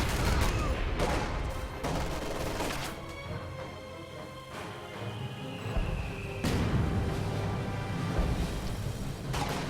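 Dense rifle fire from enemy infantry in a wargame battle crackles in rapid overlapping volleys throughout, loud and sustained, with bursts swelling near the start and end.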